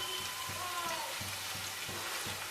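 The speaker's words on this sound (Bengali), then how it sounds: "এটাকেও একটু ফ্রাই করে নেব" Chopped garlic fries in a pan over medium heat, giving a steady close sizzle with a few soft stirring taps at regular intervals, no voices.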